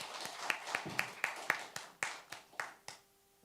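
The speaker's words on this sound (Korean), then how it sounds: "우리 하나님께 영광의 박수 하겠습니다." Sparse individual handclaps ring out in a church after a hymn at a Sunday service, about a dozen separate claps at an uneven pace, fairly close and distinct, then stopping into quiet.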